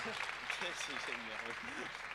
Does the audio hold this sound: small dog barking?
no